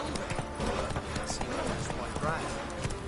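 Roach the horse gallops in The Witcher 3, a steady rush of hoofbeats under game music and a voice talking.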